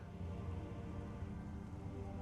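Rainfall in the video game Metroid Prime, a constant soft patter and hiss holding at one even level throughout, with no voices.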